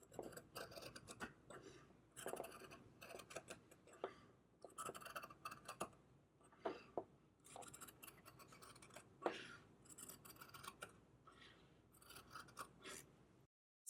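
Scissors cut fabric along a pinned paper pattern in long runs of crunchy snips and rasping blade slides, close up, with brief pauses between cuts.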